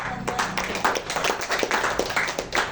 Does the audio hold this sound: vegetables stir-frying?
no